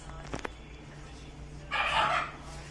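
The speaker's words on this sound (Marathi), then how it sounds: "आणि तो बघा एक कोंबडा" A rooster crows once, a loud mid-pitched call from fairly close by, after a few faint short sounds and over a low steady hum.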